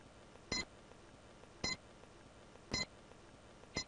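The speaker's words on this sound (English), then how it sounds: "Let's start the timer now, please." A quiz timer beeping, four short sharp beeps spaced about a second apart, fairly faint and alone over a quiet background.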